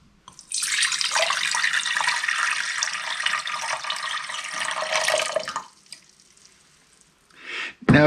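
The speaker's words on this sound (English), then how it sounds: "And we're going to pour 2 cups of water in here." Two cups of water pour into an Instant Pot in one continuous splashing stream for about five seconds, then stop, followed by a faint clatter.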